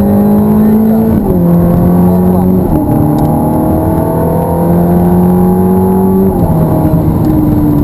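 Ferrari F430 engine accelerating on the Hallett Motor Racing Circuit, loud steady in-car drone with rising pitch and distinct gear shifts, under a voice giving instructions.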